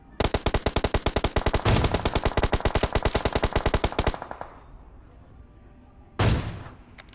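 Rapid automatic gunfire in the mobile game PUBG Mobile, a long, close, loud burst of evenly spaced shots, then a pause and a single heavy blast.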